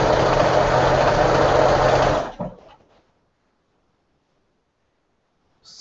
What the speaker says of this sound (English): Sew these together.